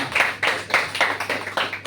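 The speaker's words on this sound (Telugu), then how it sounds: "చప్పట్లు కొడదాం అందరం" A church congregation claps along in steady rhythm at a service, a brisk run of about eight crisp group claps with a low hum beneath.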